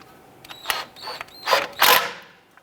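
Small screw being snugged down on an ABS speed sensor at the front knuckle of a 2002-2008 Dodge Ram 1500: a few short metallic clicks and scrapes, then two louder ratcheting bursts close up, with no talking.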